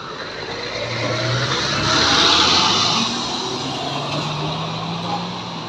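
A Sempati Star bus on an Aceh road passes fast at night, its engine roar swelling as it nears and fading as it goes, loud and close, with no talk.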